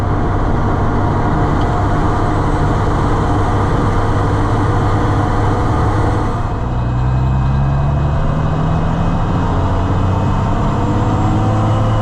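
A Ford L9000 semi truck with a Cummins diesel drives down the road with a loud, constant engine drone and road roar, a shift in pitch partway through, heard from inside the cab with no talk.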